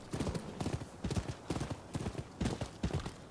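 Horse hooves clip-clop at a steady trot in the video game Rise of the Ronin, a close, rhythmic, continuous beat of muffled hoof falls.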